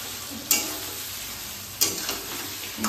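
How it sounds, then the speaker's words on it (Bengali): Fried potatoes go into a simmering shol fish curry in a pan. A soft bubbling sizzle carries two sharp clatters as pieces drop in, with faint stirring between them. "এবার আমি আলুগুলো দিয়ে দেবো এর মধ্যে"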